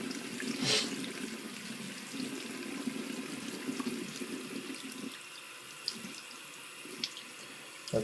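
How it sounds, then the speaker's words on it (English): Warm tap water runs steadily from a faucet, splashing over the sole of an Air Jordan XI sneaker held beneath it, with a few faint clicks and knocks near the end. "run a little warm water over that section as well"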